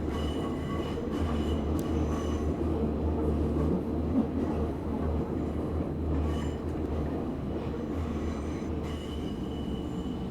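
A simulated subway train in the video game Subway Sim 2 rumbles steadily along the track, its low continuous rolling noise broken by faint wheel squeals and light clatter. No one speaks.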